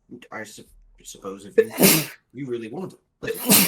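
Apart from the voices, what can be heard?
sneeze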